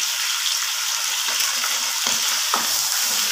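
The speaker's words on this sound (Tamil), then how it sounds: "இது நல்லா வதங்கி வரட்டும்" Karpuravalli leaves, curry leaves and coriander sautéing in a pan with fried dal, a steady close hiss of frying with a few soft scraping stirs.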